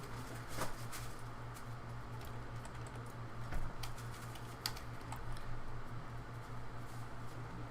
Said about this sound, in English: before I started typing and messing up stuff